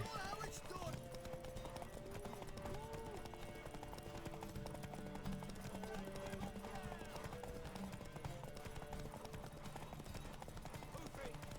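Horse hooves clip-clop steadily in The Witcher 3 game, mixed in under dense game music and other sound effects, with a whinny-like tone and voices talking in the background throughout.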